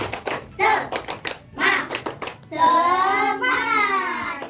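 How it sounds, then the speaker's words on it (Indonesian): Elementary pupils in a grade 5 classroom do a rhythmic spirit clap, short bursts of sharp claps in patterned groups alternating with children's voices, ending in a long drawn-out group shout. "Dan lagi, tepuk semangat"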